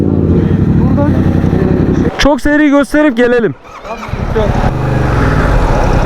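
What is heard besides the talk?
motorcycle riding under the minaret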